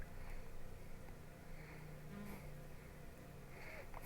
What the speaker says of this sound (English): We can hear flies buzzing around.